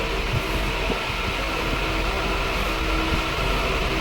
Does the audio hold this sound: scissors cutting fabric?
no